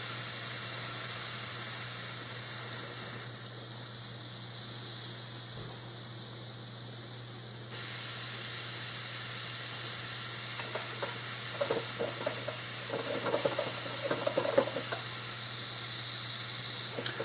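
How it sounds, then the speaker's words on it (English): Steam hissing steadily from a pressure cooker cooking lasagna, a continuous broadband hiss with a louder, busier stretch of sputtering and crackle toward the end. "It's a lot of steam."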